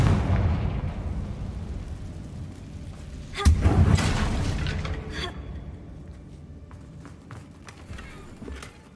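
A Confringo fire spell bursts in Hogwarts Legacy, a booming explosion partway through that rolls away into a fading rumble over a steady game backdrop.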